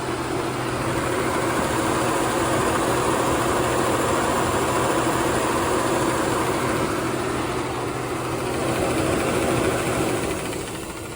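A 2005 Mazda RX-8 with a six-speed manual gearbox idling, its rotary engine heard close up near the belt as a steady, loud, even hum and whir, with no voices.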